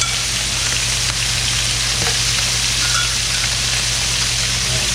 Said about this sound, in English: So here we're just going to do a hard fry on the outside